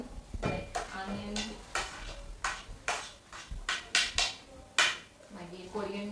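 Bhel puri ingredients being tossed and mixed in a bowl as an evening snack, giving a run of close scraping, clinking stirs in bursts, with speech over parts of it.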